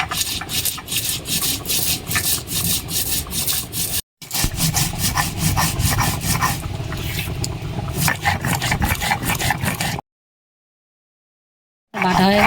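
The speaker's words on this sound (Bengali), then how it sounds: "হতে হতে আমি ভেজে রাখা মশলাটা বেটে নেব।" Fried spices being ground into a paste on a grinding stone, for a prawn and gathi kochu (taro) curry, as steady rhythmic rubbing and scraping strokes, loud and close, with one short pause and silence near the end.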